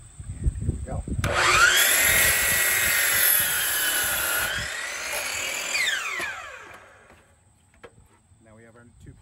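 A power saw spins up and cuts through a deck board at a 45 degree angle for picture-framed deck stairs, a loud sustained whine with the blade biting the wood, then winding down to quiet.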